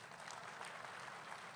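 A political rally crowd in Rajahmundry claps continuously through a speech, with the applause sounding faint, distant and steady throughout.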